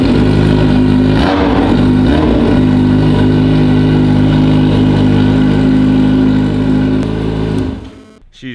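A Yamaha XJ motorcycle engine runs steadily close by, a loud, even mid-pitched drone with a brief rev near the start, then cuts off abruptly near the end.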